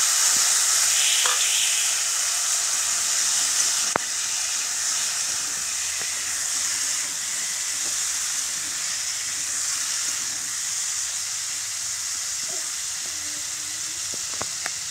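Potatoes frying in hot oil in a kadai, a steady moderate hiss and sizzle with occasional faint clicks and pops, no voices.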